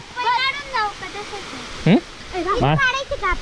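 The Mordara waterfall at Pemgiri gives a steady, broad rush of falling water that runs under people talking nearby throughout.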